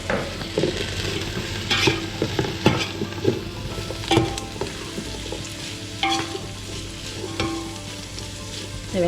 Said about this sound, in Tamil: இந்த வெங்காயம் வந்து நல்லா வதங்கணும்.